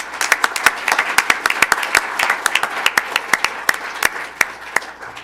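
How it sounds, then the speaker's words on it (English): A school board meeting audience gives another round of applause for military service members, a short burst of crisp, close individual claps that thins out toward the end. "Let's give them another round of applause."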